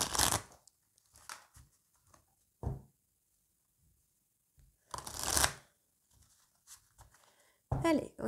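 Oracle cards are shuffled for a tarot-style reading in several short, crisp bursts of riffling and slapping, close up, separated by quiet pauses with occasional soft speech.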